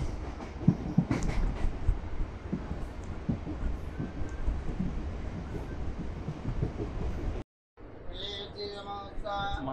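A MEMU express train runs on tracks between Narasapur and Vijayawada, with a steady rumble and rhythmic clatter from the carriage. A short gap breaks the noise near the end, and birdlike chirps or squeals follow it.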